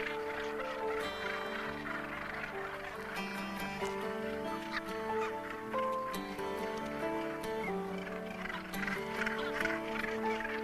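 A crowded gannet colony on Bass Rock calls all at once, a dense, continuous chorus of harsh overlapping cries that stays loud and busy throughout.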